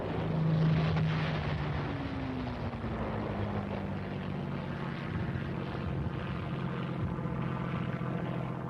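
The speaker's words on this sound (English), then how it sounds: "Wave after wave of pulverizing airstrikes were necessary to soften up the objective areas." Military aircraft fly over during Korean War airstrikes, heard as a steady, fairly loud engine drone with a slowly falling pitch across a noisy, broadband old-film soundtrack, with no talk.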